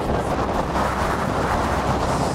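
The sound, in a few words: headwind blowing while cycling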